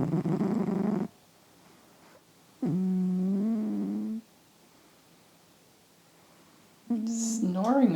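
A cat purrs in two low, rumbling bursts of about a second and a half each, with quiet gaps between them, close to a clip-on wireless microphone.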